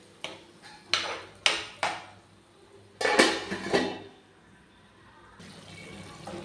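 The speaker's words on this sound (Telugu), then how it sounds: "మూత పెట్టేసుకుందాం." A lid is set onto a cooking pot of spiced curry gravy, with a few sharp metallic clanks and clatters spaced over several seconds, close and fairly loud in a quiet kitchen.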